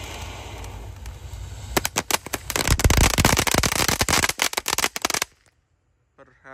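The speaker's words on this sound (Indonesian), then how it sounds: "di sini ada Conic Fountain ukuran 4 inci, air mancur Pratek bola warna-warni bosku" A 4-inch conic fountain firework bursts into dense crackling and sharp pops that build for a few seconds, then stops abruptly into near silence.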